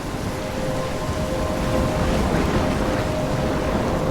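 A storm rages in the video game Life Is Strange, with dense, steady rain roaring and rumbling thunder blended into a loud continuous wash, no speech.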